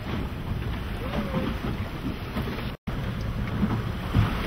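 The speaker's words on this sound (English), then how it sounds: "Pretty neat how the wind goes right up and over that cone there, huh?" Steady wind roaring across the microphone aboard a boat near a volcanic cone at sunrise on the ocean, loud and continuous with a brief dropout midway.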